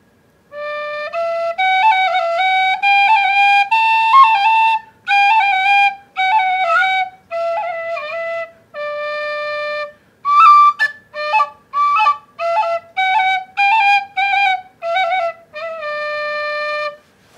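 An Irish tin whistle plays a bright, reedy melody of short phrases separated by brief pauses, with quicker ornamented notes in the middle; loud, close and solo.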